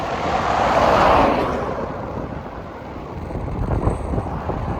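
Strong wind buffets the microphone on a long-distance cycle tour, a loud roaring gust swelling near the start and then easing into steady rumbling noise.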